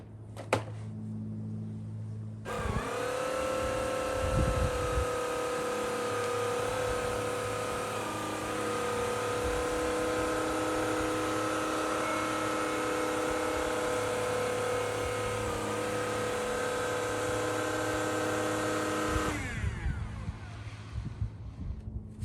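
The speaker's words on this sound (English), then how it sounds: "I'm going to run the self-cleaning cycle again" A Tineco iFloor cordless floor washer runs its self-cleaning cycle, starting with a sudden whir, holding a steady motor hum and pump whine for about seventeen seconds, then winding down and stopping.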